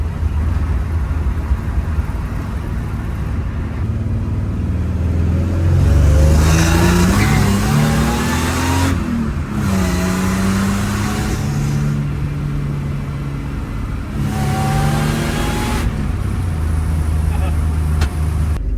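Car fitted with a supercharged Gen 5 M90 engine cruising past on a residential street, exhaust closed, a steady engine drone rising and falling with several gear changes, moderately loud over background noise.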